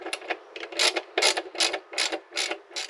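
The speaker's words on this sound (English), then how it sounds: "8mm socket, go ahead and tighten these down." A ratchet wrench with an 8mm socket tightens hose clamps on a Toyota Tundra cold air intake, in about eight short, loud bursts of rapid clicking close up.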